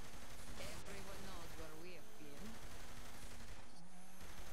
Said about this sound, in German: Die schießen ja auf alles.